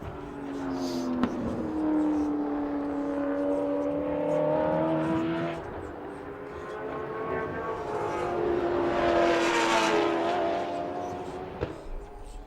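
A Chevrolet-powered Mark GT race car engine strains under load at Sydney Motorsport Park, its pitch climbing and falling as it accelerates through gears into turns 4, 5 and 6, passing fairly close with no talk.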